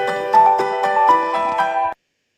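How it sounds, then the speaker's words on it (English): A phone ringtone plays a bright, melodic electronic tune in steady repeated pulses for about two seconds, then cuts off into silence. No voices are heard. "that's a nice little tone for a ringtone"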